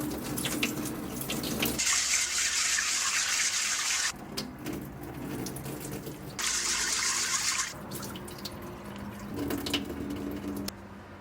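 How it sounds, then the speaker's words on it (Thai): Soybeans rinsed under a running tap in a kitchen sink, with two loud bursts of splashing water separated by quieter stretches of swishing and draining, no talking. "อย่างแรกผมจะล้างถั่วเหลืองครับ"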